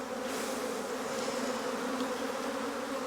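A dense, continuous buzz of many honeybees swarming close around a hive, a steady droning hum with no voices.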